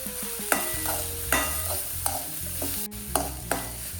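Beef stew ingredients sauté in hot oil with a soft steady sizzle, broken by repeated sharp scraping clanks of a spoon stirring against the pan, close and moderately quiet, with no talking.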